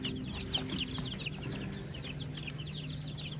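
Baby chicks in a brooder cheep constantly, a dense chorus of high, overlapping peeps over a low steady hum from the brooder heater, with no voices.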